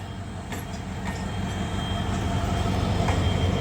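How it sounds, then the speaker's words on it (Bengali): A container train rolls slowly into Tongi station, its low, steady rumble of rail wagons building gradually, with faint wheel squeal and clatter over the tracks and no talk. "বন্ধুরা দেখতে পাচ্ছেন একটি কন্টেনার ট্রেন টঙ্গী প্রবেশ করছে। আস্তে আস্তে ধীরে ধীরে যাচ্ছে।"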